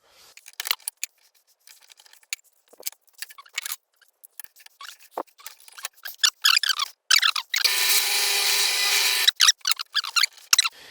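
Wood is drilled through for homemade wooden clamps. Scattered clicks and taps of handling come first, then one close, harsh drilling burst of under two seconds, followed by more clicks.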